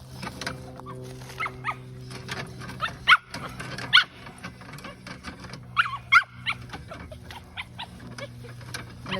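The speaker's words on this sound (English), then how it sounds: "And this is when the dog gets excited." An excited dog whimpers beside an OPUS Air On-road camper being set up, giving several sharp high whines and squeaks scattered through a steady low hum, fairly close.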